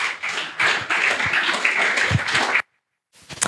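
Audience clapping at a company feature release presentation, a dense burst of applause that stops abruptly, followed by a brief silence and a few faint taps.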